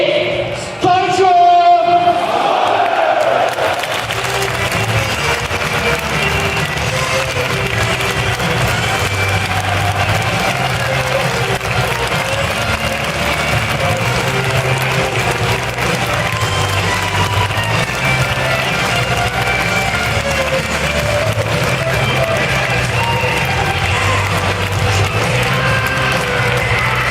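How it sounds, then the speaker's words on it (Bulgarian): A large crowd applauds and cheers for Levski's new head coach Stoycho, beginning with a brief announcement-like burst before settling into a loud, sustained roar of clapping and cheering that fills the whole stretch without letting up. "Нека вашите аплодисменти поздравят за новия старши треньор на Левски, Стойчо!"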